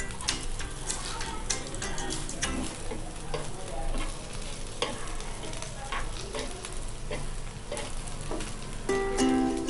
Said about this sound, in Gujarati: બીજી સાઈડ પણ ફ્રાય થવા દઈએ.